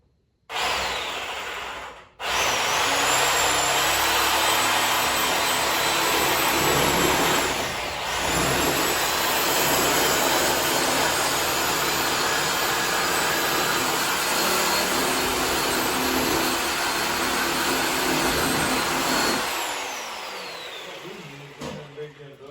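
A small plasma cutter slicing through metal while bracing a factory stock build: a loud, steady hiss starts abruptly and runs continuously for most of the clip, then cuts off.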